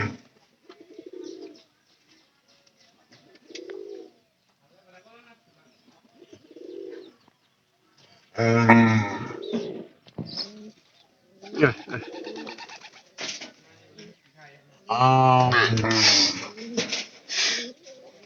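Domestic pigeons being fed ground maize coo in soft, low, repeated phrases, first alone at intervals, then under louder nearby human talk.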